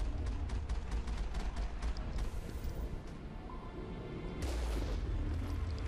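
Repeated booming cannon blasts in rapid bursts over a low rumbling game soundtrack in Mass Effect, heavy and percussive.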